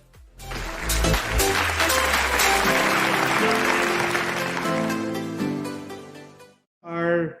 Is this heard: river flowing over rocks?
no